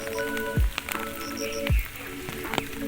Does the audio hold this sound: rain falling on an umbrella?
yes